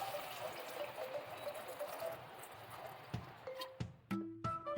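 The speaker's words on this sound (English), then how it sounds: "To this, add 4 cups of water." Four cups of water pour steadily into a pan with a rushing splash for watermelon rind gravy, then the stream stops, followed by a few clinks and knocks of cookware.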